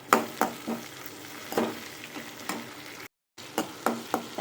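Tomato sautéing with onions in a pan, with a soft sizzle under repeated, rhythmic scraping strokes of a spoon stirring the mixture, broken by a brief cut to silence partway through.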